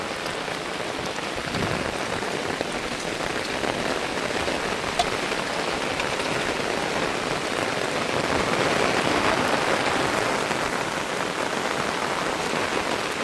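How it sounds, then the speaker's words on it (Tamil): Steady rain pours onto flooded fields in Sri Lanka during a sudden heavy downpour, a dense, even hiss of drops across the whole stretch with no voices. "பாருங்க, மழை பெய்து நல்ல தண்ணி வந்துருக்குது."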